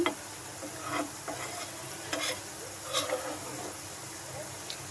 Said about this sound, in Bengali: মাছটা লাল করে আগে তেলে ভেজে নেবেন